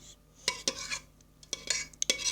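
A spoon spreads cake batter for a Turkish cat's tongue (kedi dili) cake, giving several short, close scraping clicks and taps in an irregular rhythm, with no talking.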